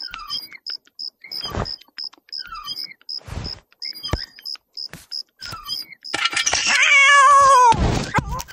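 A cartoon cat from a Russian animated folk tale gives a drawn-out, wailing meow near the end, after a stretch of light, evenly spaced ticking and a few soft thumps, with no speech.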